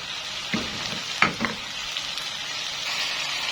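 Beef liver sizzles and fries in a pan for street-style liver, a steady hiss with a few brief louder stirring crackles near the start, and no talking.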